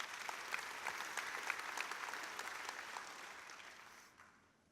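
Congregation at a church service applauding a volunteer, a dense, steady wash of many hands clapping that fades out toward the end.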